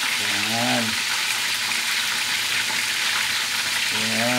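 Chicken drumsticks fry in hot oil with a loud, steady sizzle and crackle throughout, while a voice speaks briefly at the start and end.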